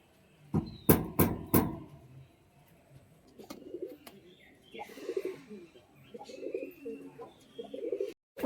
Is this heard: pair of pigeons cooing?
yes